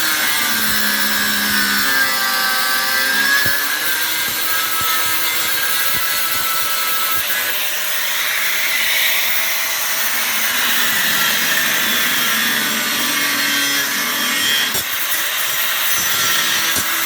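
Power tool chamfering the edge of an aluminium wheel rim from a V10 Touareg, a continuous grinding whine with shifting pitch, loud and close over about seventeen seconds.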